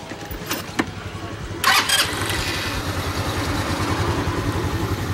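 A motorcycle engine cranks with a couple of sputters, then catches and settles into a loud, steady idle close by.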